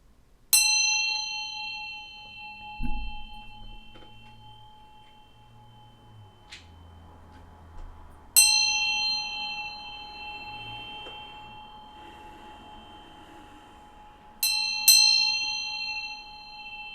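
A bell is rung to set a calm mood. It gives clear, ringing strikes at spaced intervals, each tone sustaining and slowly fading. A quick double strike comes near the end.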